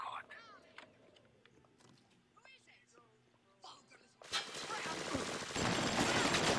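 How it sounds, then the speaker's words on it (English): Machine gun fire in BioShock bursts in loud and sustained after a stretch of quieter game sounds and whispery voices, a dense rapid rattle filling the last couple of seconds. "Machine gun fight!"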